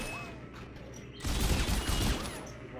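A loud burst of rapid gunfire in Dead Space 2 breaks in partway through after a quieter ambient stretch, then fades slightly toward the end.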